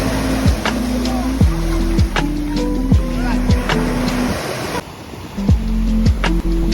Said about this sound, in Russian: во второй день вот такой красивый прибой